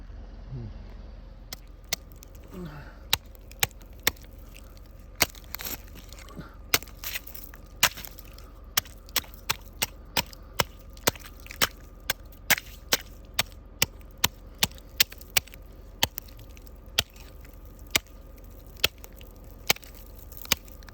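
Ice being smashed to open a cold plunge in January, heard as a long run of sharp, loud, irregular chopping strikes that keep coming over a low steady background.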